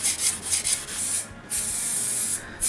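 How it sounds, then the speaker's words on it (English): Sandpaper of 220 to 400 grit rubs over a shellac-finished guitar body, a steady close hiss in repeated strokes that briefly pauses near the middle and again near the end. "I sand the guitar with 220 grit up to 400, just to remove any brush marks"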